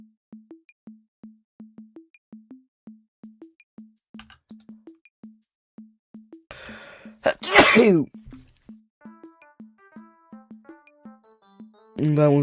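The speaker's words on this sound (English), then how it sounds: "That was just me sneezing" A loud, close human sneeze bursts out amid a soft repeating electronic beep pattern, followed by another breathy burst near the end.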